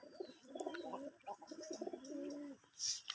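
Pigeons coo softly in low, warbling phrases while bathing, a pair of black-and-white birds among them, faint and near, with a few brief higher chirps and small splashy noises in the background.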